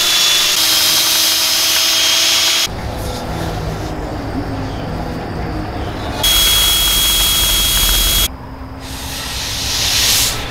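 Aluminum carport pipe being sanded with 120 grit abrasive, a loud continuous hissing grind that shifts in tone between passes, with brief pauses between them.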